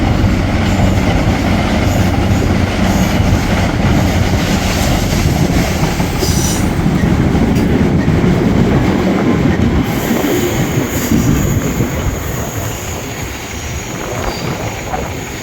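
A CrossCountry Voyager train passes Ardwick Station loudly and close, a sustained roar of wheels on rails with faint squeals, gradually easing off toward the end.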